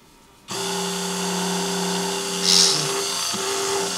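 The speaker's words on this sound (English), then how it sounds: "This white metal drills real nice." A small drill runs continuously into white metal, a steady whine starting abruptly after a brief quiet moment, with a short rise in pitch partway through as the bit pushes through the soft casting.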